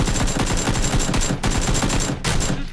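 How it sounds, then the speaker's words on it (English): Rapid gunfire rattles almost nonstop through a video game firefight, dense bursts of shots crowding together with only brief gaps, loud and close. "I heard a gunshot"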